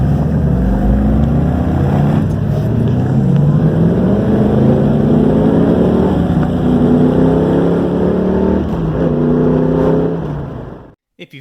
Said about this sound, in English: he's going to add the little car revving thing